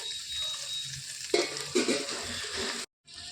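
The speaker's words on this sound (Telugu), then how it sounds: "ఇందులోనికి పీసెస్ అనేవి వేసేసుకోవాలి మంచిగా ఫ్రై చేసుకోవాలి" Paneer pieces frying in ghee for a restaurant-style paneer masala curry, giving a continuous sizzling hiss with a few louder spatters and stirs, then a brief cut to silence before the sizzle resumes.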